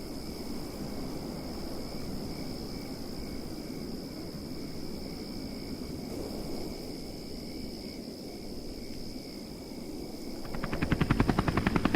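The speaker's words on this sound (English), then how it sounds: "Suddenly there was a strange whirring noise. It seemed to come from the sky" A steady mechanical whirr hums beneath a high, constant tone, with a rhythmic chopping flutter growing louder toward the end, like a helicopter approaching.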